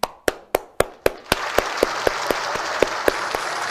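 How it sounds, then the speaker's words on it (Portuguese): Applause in a Brazilian TV news studio starts as a few sharp, separate claps with a regular beat. It swells into a fuller round of clapping that continues to the end. "Por favor, Condorito, uma salva de palmas."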